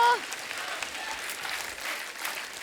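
Studio audience at a comedy talk show claps in a steady, dense burst of applause lasting a few seconds, fairly even and moderately loud without any talk.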